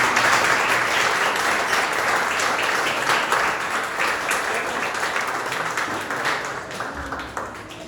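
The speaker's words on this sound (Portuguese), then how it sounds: "E a igreja mais uma vez aplauda com alegria." A church congregation at an evening family service applauds joyfully, dense sustained clapping from a large crowd filling the room and tapering slightly toward the end.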